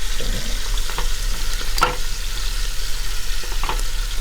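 Oxtail pieces sear in a hot pan for an oxtail ragu, giving a steady close sizzle with a few sharp crackles and scrapes. No one speaks.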